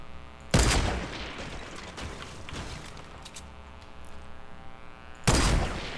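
Gunfire in the battle royale game Fortnite: two loud, sharp shots roughly five seconds apart, with quieter muffled game noise and distant pops between them.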